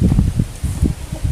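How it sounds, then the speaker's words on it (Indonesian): Wind gusts outdoors in a corn field, heard as close, rumbling buffets on the microphone that pulse irregularly and loudly, with no talking. "Angin nih."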